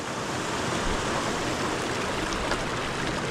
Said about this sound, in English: there's the view upstream to the flowing waters